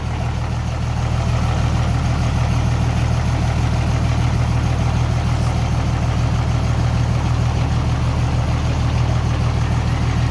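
A ten-wheel truck engine idles loudly and steadily with its exhaust muffler removed, a deep, throbbing rumble and a raw, unmuffled rattle, running nonstop throughout.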